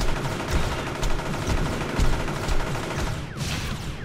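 Gunfire in the superhero video game Champions Online sounds as rapid, close bursts of shots with a pulsing rhythm that continues for a few seconds, with a sweeping effect near the end.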